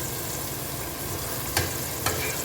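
Mutton pieces frying in hot oil in a pot for Ambur mutton biryani, a constant dense sizzle close by, with two brief scraping stirs near the end and no voices.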